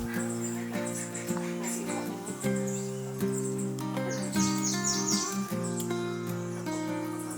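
Warblers in the Ecuador morning give repeated high chirps and short song phrases, close and fairly clear, over a constant buzzing insect drone.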